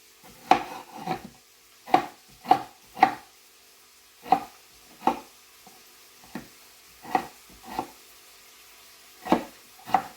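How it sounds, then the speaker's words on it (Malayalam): A knife chops three tomatoes on a cutting board, about a dozen crisp knocks falling in an uneven rhythm with short pauses between, close and clear, no talk. "പിന്നെ ഇനി നമുക്ക് ഈ 3 ടൊമാറ്റോ ഒന്ന് ചെറുതായിട്ട് കട്ട് ചെയ്തെടുക്കാം."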